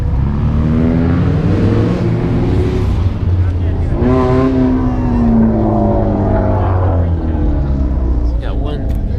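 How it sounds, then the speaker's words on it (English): A twin-turbo Lamborghini Huracan with a carbon front lip rumbles loudly and continuously up close, its engine note rising and falling with revs while a person talks over it. "We got a twin turboed Huracan."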